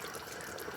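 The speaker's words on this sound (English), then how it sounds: "as I pour in the hot water here, and it's continued boiling" Hot boiling water pours into a pot of red curry soup, a soft steady hiss of flowing and splashing liquid, faint and continuous with no talk.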